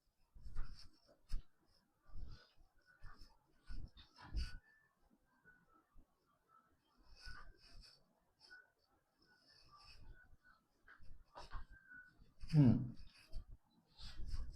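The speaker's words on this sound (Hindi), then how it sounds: "तो इसे यहाँ से लिखते हुए स्टार्ट करते हैं" Intermittent scratches and taps of marker or chalk writing on a classroom board, coming in short bursts separated by pauses, with a teacher talking in between.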